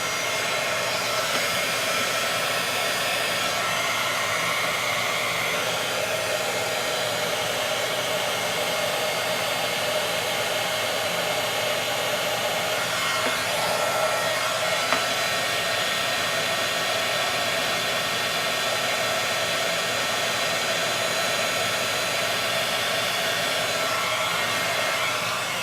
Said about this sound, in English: I am going to just heat my tool for a minute.